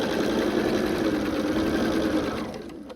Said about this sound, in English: put my finger down, and continue sewing